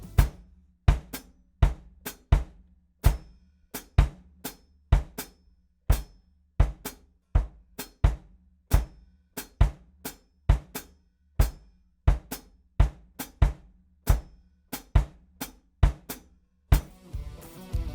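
Steady interlocking polyrhythm of low kick drum thumps and hi-hat foot stomps, evenly paced and repeating for a long stretch, with no voices.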